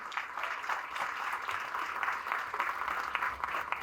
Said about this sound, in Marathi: जोरदार टाळ्या वाजवायच्या आहेत।